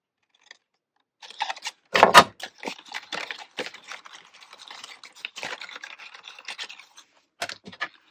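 Card stock being cut for a handmade black and white card, heard as close, uneven snips and scratchy slicing strokes with short pauses between them, no talking.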